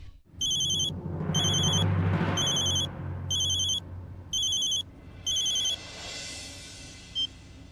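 A telephone rings loudly in repeated regular bursts, six shrill electronic trills separated by short gaps, over a low rumbling dramatic music bed.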